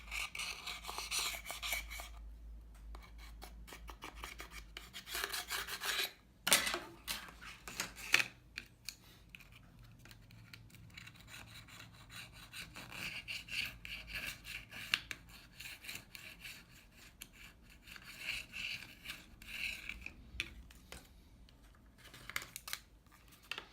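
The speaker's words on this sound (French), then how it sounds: "On va maintenant enlever tous les résidus de colle et de verre qui se trouvent tout autour de notre châssis." A tool scrapes glue and glass residue off a phone chassis during a screen replacement: close, dry, irregular scratching and rasping in uneven bursts, with quieter gaps between passes.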